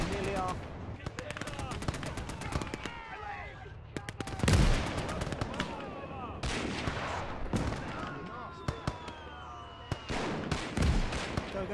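Gunfire in the Battle of North Africa video game, with dense bursts of machine-gun fire and single sharp shots, some near and loud, others further off, with voices shouting in between.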